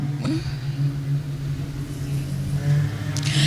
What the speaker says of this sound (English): As car 20 of Noakes will gap him off the start again, followed by Oppett.